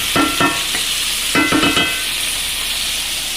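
Coconut milk bursts into a loud sizzle in a hot pan, with a few quick stirring scrapes in two clusters, then settles into a softer steady hiss.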